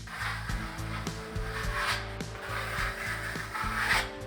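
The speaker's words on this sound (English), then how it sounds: "I slid the trowel across the plaster, holding it at an angle and using moderate pressure against the wall." A steel trowel is rubbed across Venetian plaster on a wall at an angle with moderate pressure, burnishing it. It makes steady, close scraping strokes in a repeating rhythm, with a low hum running underneath.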